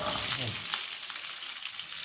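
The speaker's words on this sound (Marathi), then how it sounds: "आता कांदा टाकायचा कांदा हे बघ एकच कांदा घेतला आणि चार पाच लसणाच्या फोडी हे सुद्धा फोडणीला टाकायचं" Onion and a few garlic cloves sizzle steadily in hot tempering oil with curry leaves, a close, continuous crackling fry with a brief stir near the start.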